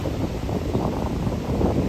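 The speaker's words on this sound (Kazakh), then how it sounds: "Бірақ жел болып тұр екен әлі" Steady wind buffeting the microphone outdoors on the shore of Lake Balkhash, a continuous low rumbling roar with gusty swells and no voices.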